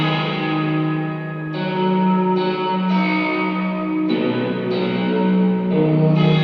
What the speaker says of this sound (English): I just set up a loop of myself playing the Echo Fix Spring Reverb